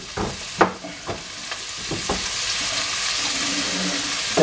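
Onions frying in a pan, a steady loud sizzle with a few sharp stirring scrapes early on, close up and with no talking.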